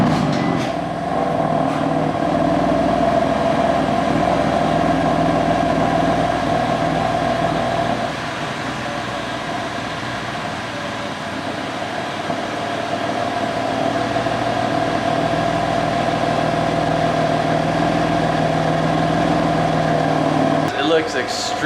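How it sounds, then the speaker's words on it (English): A BMW F80 M3 engine idles steadily with a low, even drone from start to finish, dipping slightly midway before settling back, while a voice speaks faintly over it. "let's go ahead and turn the car on"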